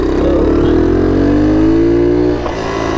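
A vintage Honda Trail 70 motorbike's small engine buzzes close and loud while riding, its pitch climbing steadily and then easing off near the end.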